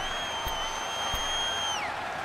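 Home stadium crowd in Madden NFL 19 as a steady, dense roar throughout, with a high whistle-like tone sliding down near the end and a couple of faint thumps.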